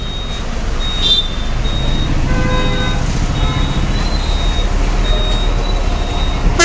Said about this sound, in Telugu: జనాల బస్సు అది.